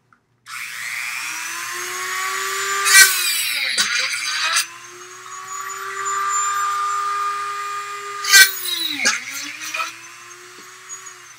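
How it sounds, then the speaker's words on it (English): A power drill bores quick holes for wiring through a hobby aircraft model fuselage, its motor whining up and down in two separate close runs, each with a sharp start and a falling pitch as it slows. "I'm drilling a quick hole here and here so that the wires from there can run through them."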